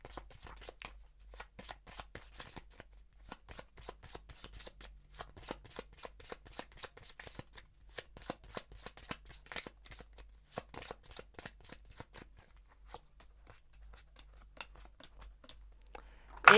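Oracle cards being shuffled by hand, a long run of quick crisp riffling flicks and slaps at close range, quiet and steady, with no voices.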